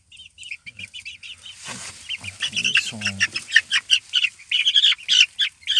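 Roosters and hens clucking and chirping in short bursts, fairly close, with a rising chorus of calls toward the end.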